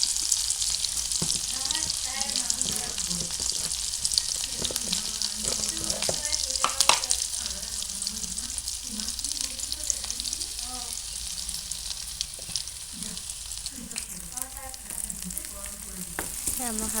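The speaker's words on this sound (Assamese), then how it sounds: "পিঁয়াজখিনি ধুনীয়াকৈ ভাজি ল'ম" Onions frying with turmeric in a pan, a steady close sizzle with occasional stirring scrapes and crackles running continuously.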